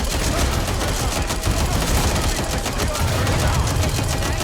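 Dense, constant gunfire in Watch Dogs Legion, a loud rattling fusillade of overlapping shots that fills the whole stretch without pause.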